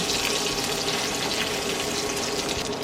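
Tofu being stir-fried with chili in a pan, a steady loud sizzle and hiss of frying throughout, close and continuous with no talking.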